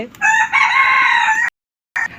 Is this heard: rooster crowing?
yes